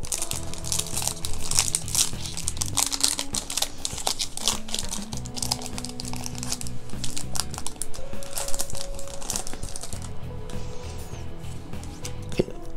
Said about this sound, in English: let's crack open another pack